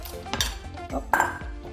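Pieces of coconut meat for a ceviche drop into a bowl, giving a few close, light clinks and knocks against the dish in an uneven rhythm, with no talking.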